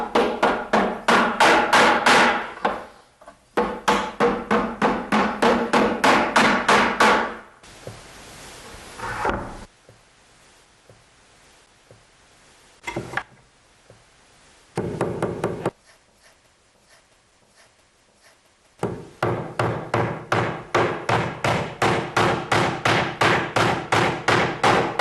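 Nails are hammered into a wooden cabinet base while a metal block is held behind each nail head, making rapid series of loud, close, sharp strikes with quiet pauses between bursts.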